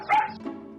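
A dog barks once or twice in a quick, close yip-like burst, then gives a softer short follow-up yelp.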